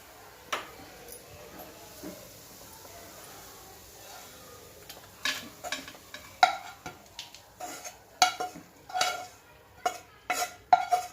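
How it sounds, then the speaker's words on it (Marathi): A thick sesame and jaggery mixture is stirred in a pan, with soft scraping at first, then sharper spoon-on-metal clinks and scrapes in an irregular rhythm, close and fairly quiet. "जरा घट्ट होईपर्यंत आपण अजून थोडा वेळ हलवून घेऊया."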